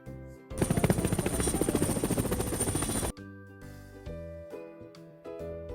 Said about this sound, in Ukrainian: Гелікоптер.